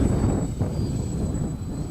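A model aircraft's small motor whines at full throttle over a low, rushing wind rumble, steady and close for a couple of seconds, at a model flying club field.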